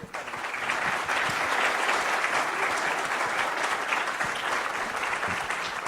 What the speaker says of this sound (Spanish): me ayuden con un fuerte aplauso para despedir